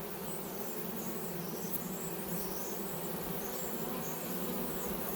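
Honey bee swarm fanning inside a bucket, a continuous soft buzzing hum that stays steady and fairly faint, with no voices.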